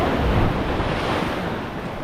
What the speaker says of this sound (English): The waves are so heavy.